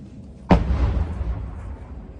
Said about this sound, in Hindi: ये आर्टिलरी की ऐसी ही आवाजें आपको सुनाई देंगी।